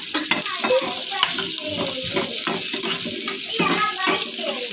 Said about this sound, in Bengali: এটা তেল দিয়ে ভাজছো